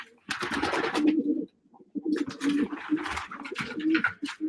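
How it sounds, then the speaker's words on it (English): Pigeons coo in a stock bird loft belonging to a champion racing pigeon breeder, with several birds' low, throbbing calls overlapping nearly continuously and close by, broken by a brief pause. "These are where the stock birds are."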